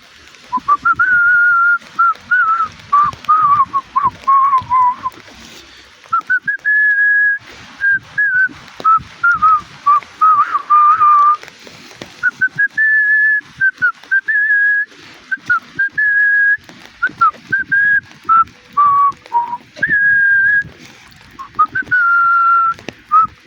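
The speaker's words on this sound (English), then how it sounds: "These are all tunes I like to whistle while I'm walking." A person whistles a melodic tune solo in short phrases with brief pauses, close and clear, with no talk.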